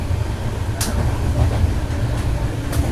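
Constant low rumble and rattle inside a sleeper class coach of the Chennai Central to Ektanagar superfast express, with faint brief squeals, heard close throughout.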